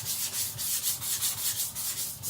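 Victorinox Chinese cleaver stroked along a whetstone while being thinned to a wide bevel under firm pressure, a steady back-and-forth rasping with about ten even strokes, close and alone.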